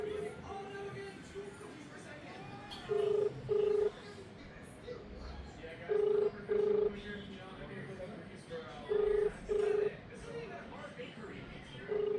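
A phone call rings out through the handset with repeated paired ringback tones at regular intervals, steady and clear, while a crowd of people chatters in the background.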